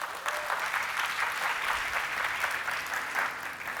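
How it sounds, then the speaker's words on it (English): An audience at a Google I/O '17 conference talk on Firebase Hosting breaks into sustained, even applause, a dense roomful of clapping lasting several seconds with no voices over it. "how about we just take a second to give a round of applause for everyone who shows up for a 5:30 p.m."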